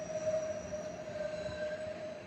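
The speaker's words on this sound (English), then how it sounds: "Now here comes another train in." A SEPTA Norristown High Speed Line train arrives with a faint, sustained wheel squeal ringing as a steady tone over low rumbling, heard from the platform without talk.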